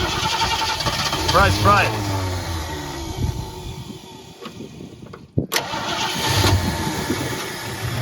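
Engine of a 1973 Ford Mustang Fastback, left rotting in a yard for 30 years, running roughly and unevenly close by after a flooded start, with people talking over the rumble and a sharp clunk partway through.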